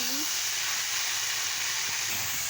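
Spinach with coriander leaves being sautéed in a pan for a Bengali palong shak chorchori, giving a steady, close, hissing sizzle throughout with faint background noise.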